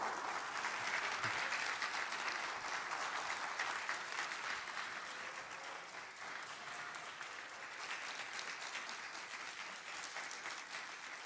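A church congregation claps steadily for a new member being welcomed during a Sunday service, broad sustained applause filling the room for the full stretch, easing slightly partway through.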